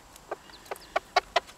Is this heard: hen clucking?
yes